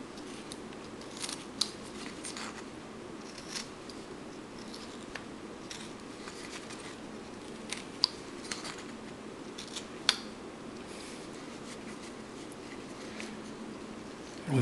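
A Swedish folk horse is carved in wood with a knife cutting between the ears, giving faint, sporadic scraping and snipping clicks over a low steady background hiss, with no talking.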